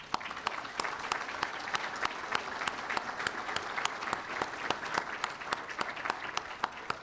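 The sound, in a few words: hearty round of applause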